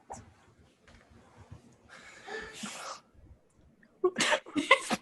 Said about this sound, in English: can you hear it? The sneezing?